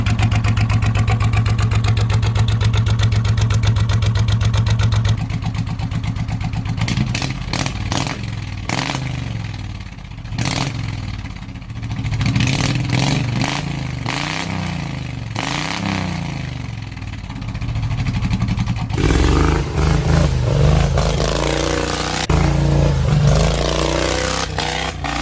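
Custom hot rod lawn mower tractor engine with a universal flexi pipe exhaust idles with a loud, buzzy throb, then revs up and down several times before settling back to a rough, close idle.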